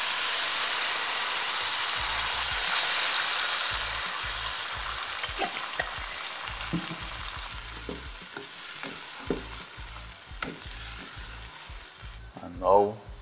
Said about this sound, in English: to our hot pan, I add in some olive oil. Now I want to go in with tomato sauce